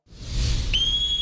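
A whistle is blown once, a breathy rising blast that settles into a steady shrill tone held for about half a second, loud and alone.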